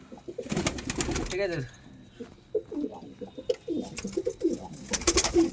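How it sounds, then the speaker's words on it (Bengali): Golden-eyed domestic pigeon cooing in repeated low throaty rolls close by, with people talking in between and over the calls. "এটা একটা গোল্ডেন আইজের পায়রা"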